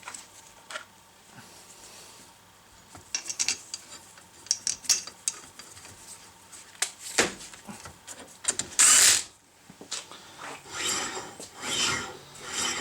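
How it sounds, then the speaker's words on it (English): Brake bracket bolts being loosened by wrench on a custom brake bracket mockup: scattered ratcheting clicks, scrapes and metallic rasps, close and irregular, with a loud burst of harsh friction partway through and no talking. "I basically just loosened up the 2 bolts and pulled out, you know, any movement that was there"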